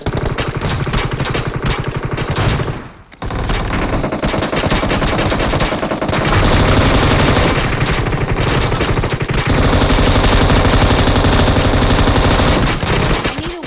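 An M249 light machine gun fires in PUBG Mobile, long loud sustained bursts of rapid automatic shots with only a brief pause, nearly continuous throughout.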